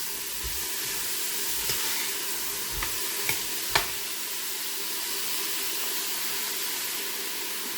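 Soup vegetables seasoned with black pepper sweating in a pot, a steady soft sizzle and hiss, with a few light stirring knocks early on and then an even simmer, near and free of talk.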